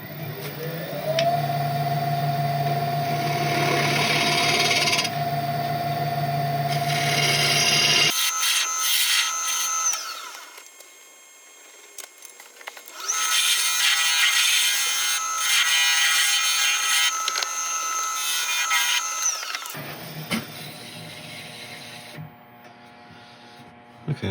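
A wood lathe whirs and scrapes as a tool cuts a recess into the base of a spinning wood and epoxy resin bowl, loud stretches of rasping broken by a quieter pause in the middle.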